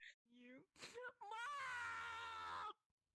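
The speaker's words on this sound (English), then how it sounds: "Just hear on you screaming." A high, sustained scream voiced by a player in the VRChat game, rising after a couple of short yelps and holding strongly for over a second before cutting off.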